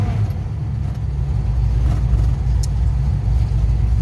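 A 1970 Pontiac LeMans with a 455 engine and an MSD ignition is driven under throttle with its secondaries not opening, giving a loud, steady low rumble from inside the moving car.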